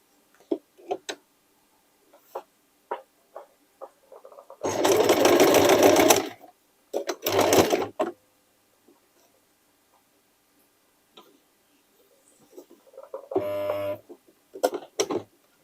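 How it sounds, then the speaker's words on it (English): Sewing machine running straight stitches on denim from old jeans, two sustained bursts of whirring with a shorter run near the end, separated by quiet clicks and handling taps. "First, a straight stitching just to fix it."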